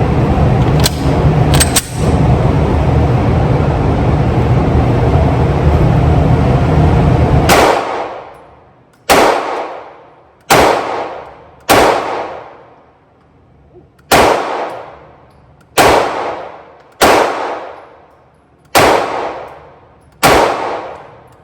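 Pistol shots at an outdoor shooting range, fired with a Crimson Trace CTS 1500 red dot sight: loud sharp reports, first a continuous din then about nine separate shots spaced one to two seconds apart, each with a brief decaying echo.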